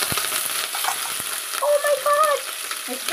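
Green chillies hiss and crackle as they go into hot oil with mustard seeds, cumin, urad dal and chana dal. The sizzle is steady, bright and close, with faint whistling tones rising through it.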